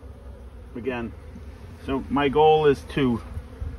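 Honey bees buzz in waves around an open hive during a spring inspection, rising and falling close by while a person speaks briefly over them.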